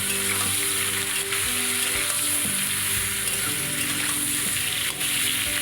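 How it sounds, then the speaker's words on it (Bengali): Water lilies and green chillies hit hot oil already tempered with cumin seeds and bay leaves, giving a loud, steady close-up sizzle with crackling that runs the whole time, no voices. "কয়েকটা কাঁচা লঙ্কা তেলের ওপরে দিয়ে দিলাম তারপরে শাপলাগুলো দিয়ে দিলাম"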